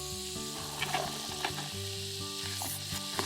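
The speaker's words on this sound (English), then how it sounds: "You've got a lot of sizzle going on down there." Diced onions frying in a pan at an outdoor camp cook-up, a soft steady sizzle with occasional crackles and stirring clicks, heard beneath a low tonal hum.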